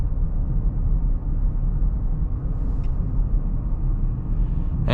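A 2026 Nissan Rogue's engine and road noise make a steady low rumble from inside the cabin while driving, continuous and moderate with no talk.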